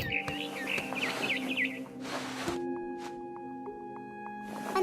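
Video game bird from What Remains of Edith Finch chirps in quick repeated tweets over steady ambient game music, then falls quiet as sustained tones and brief noise bursts continue.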